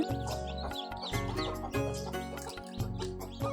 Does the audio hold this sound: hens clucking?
yes